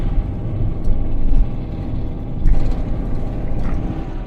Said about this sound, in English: Get away from this traffic.